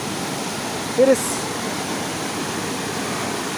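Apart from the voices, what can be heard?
waterfall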